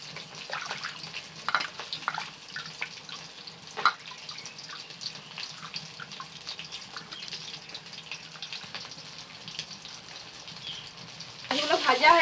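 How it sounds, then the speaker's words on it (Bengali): Pangas fish pieces frying in oil, a soft continuous sizzle with occasional spatters and utensil taps, growing louder at the very end. "এগুলো ভাজা হয়ে গেছে, তুলে নিচ্ছি।"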